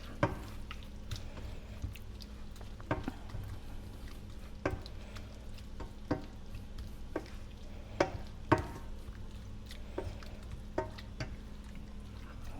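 Ground taco meat cooks in a pan under a faint, steady sizzle, broken by scattered sharp clicks and scrapes as it is stirred. No one speaks.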